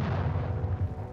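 Artillery fire from a World War I trench-warfare barrage: a deep, continuous booming rumble that rolls on without clear breaks, heavy and distant-sounding.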